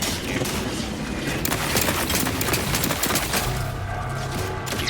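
Gunfire from the video game The Outer Worlds 2 erupts in loud, dense bursts of rapid shots and booms that roll on continuously for several seconds, with no voices.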